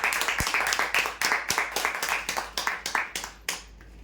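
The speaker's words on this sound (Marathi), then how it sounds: "जोरदार टाळ्या होण्यासाठी" A small audience claps for the first winner of a prize draw for a sofa-cum-bed, with steady, close, slightly ragged hand claps continuing for several seconds before trailing off.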